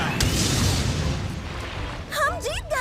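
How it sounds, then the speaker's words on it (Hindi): A big air blast explosion in an anime booms and rumbles with a long roaring tail, then a high-pitched animated voice cries out near the end. "हवाई धमाका!"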